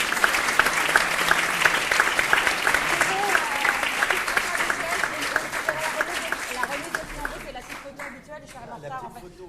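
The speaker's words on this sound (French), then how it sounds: "On va demander d'applaudir peut-être nos deux invités" Audience applause for two guests at a breakfast debate in the French Senate, a dense sustained clapping that stays loud and steady before thinning and fading near the end, with crowd chatter mixed in.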